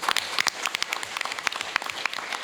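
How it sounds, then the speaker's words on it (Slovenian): Brief burst of audience clapping at a Slovenian forum on genetically modified versus naturally grown food, uneven and fairly sparse with distinct individual claps close by. "tako da je aplavz tudi za gospo Gelco"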